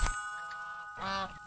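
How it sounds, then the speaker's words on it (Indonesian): A goose gives a single harmonic honk, following a short thump, against a quiet background with a faint steady tone in an animated scene. "Angsa Atuk terlepaslah tu."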